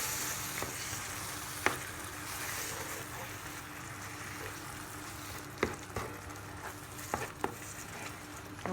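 A fish gratin mixture with crème fraîche is stirred in a pan: soft, quiet scraping and a faint background sizzle, with a few brief clinks of the utensil against the pan.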